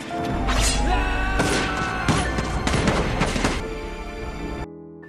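Rifles firing in a samurai battle scene, a series of loud, sharp cracks and booming volleys in clusters over a dramatic film soundtrack, ending abruptly.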